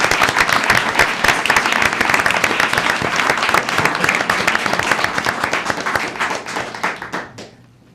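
A roomful of people at a city council meeting gives a dense, sustained round of clapping that stays loud and even for several seconds before thinning and fading out.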